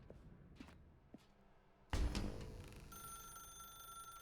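Telephone in The Stanley Parable, a few soft footsteps followed by a sudden loud thump, then a sustained ringing tone continuing alone.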